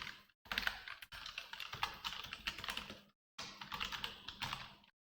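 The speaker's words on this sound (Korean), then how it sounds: "그냥 여기 그냥 코드를 치면 됩니다." Rapid clicking of computer keys as code is typed, arriving in two close, fairly quiet bursts separated by a brief pause, with no voices.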